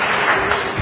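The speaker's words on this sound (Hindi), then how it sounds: "अच्छा अब आप लोग सब तालियां बजाएं" Children and adults in an audience at a tribute event for Abdul Sattar Edhi break into a short, steady burst of applause, their clapping dense and close throughout.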